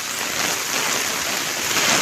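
Heavy monsoon rain pours down steadily along Marine Drive in Mumbai, a dense, continuous hiss that stays loud and unbroken throughout, with no voices over it.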